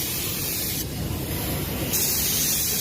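A spray gun lays a coat of primer filler over a patched area on a car body, a loud steady hiss close by that runs the whole time with no pauses.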